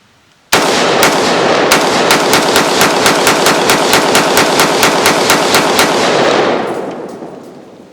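IWI Galil Ace 5.56 rifle firing 20 rounds: a loud, close, rapid string of roughly twenty sharp shots in an even rhythm, ending abruptly and leaving a fading echo.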